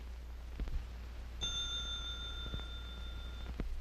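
A bell rings once in a reaction-timing test. It gives a clear, sustained metallic ding for about two seconds against quiet room noise with a few faint clicks, and no one speaks.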